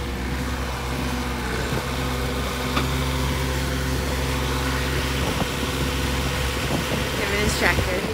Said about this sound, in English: driving his tractor with a chain on it